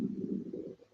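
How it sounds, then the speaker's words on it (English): A hungry stomach growls during a heart chakra meditation: a low, bubbling gurgle that rolls on without a break for about a second, fairly quiet and close, with no voices over it. "Anybody else hear my stomach growling on that?"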